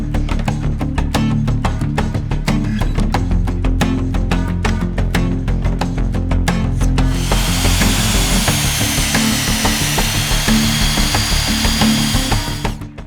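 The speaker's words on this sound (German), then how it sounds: "dann können wir die Löcher bohren" A power drill bores holes through wooden cross posts of a DIY power rack, guided by a template; a run of close tapping and clatter gives way to a loud, sustained drilling whir in the second half.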